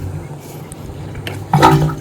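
Water from a village pump gushes into a tank, a low steady rush that swells suddenly louder and fuller near the end, with no talking.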